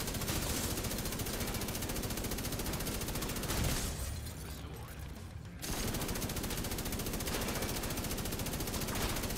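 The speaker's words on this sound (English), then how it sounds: "Okay, so I'm shooting 1. They're all taking damage." Gunfire in a video game: a dense, unbroken stream of rapid automatic shots that briefly drops away near the middle, then resumes at a steady, fairly loud level, with no talking.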